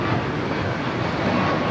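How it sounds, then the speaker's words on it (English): An Air Premia Boeing 787-9 Dreamliner takes off from LAX bound for Seoul, giving a continuous broad, rumbling engine roar. "Air Premia 102 taking off to Seoul on the 787-9 Dreamliner."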